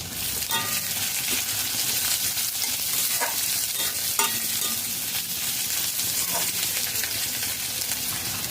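Chopped onion frying in a pan over onion paste, a steady loud hiss of sizzling oil that runs the whole time, with occasional soft clicks and scrapes of stirring.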